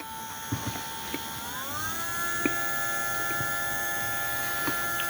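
Slot car electric motor spinning on a Scaleauto motor tester, a steady high-pitched whine that rises in pitch as it spins up, with a low hum beneath and a few small clicks, close and fairly quiet.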